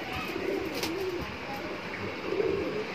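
Shahjahanpuri pigeons coo softly in low, rolling calls a few times, close by, over a faint background hiss.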